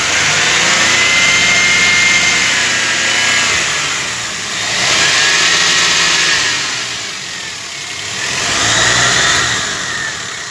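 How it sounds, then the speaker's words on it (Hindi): A car engine revs repeatedly after an intake manifold air leak repair, three broad swells of rising and falling revving over a steady idle, close and loud with no talking. "अभी सब लगा के मैं इंजन स्टार्ट रखा हूँ, और रेस करके दिखाता हूँ"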